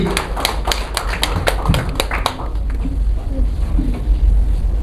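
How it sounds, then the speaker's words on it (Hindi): Brief, sparse clapping from a few hands sounds at a state-level teacher award ceremony, fading after a couple of seconds into low rumbling room noise. "जोरदार तालियां बजाते।"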